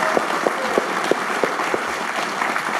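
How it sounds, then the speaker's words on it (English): Audience applause for investor Peter Lynch at an evening event, a steady wash of clapping from a crowd with scattered sharper claps standing out, filling the room without any talk. "How about a round of applause for Peter Lynch, ladies and gentlemen?"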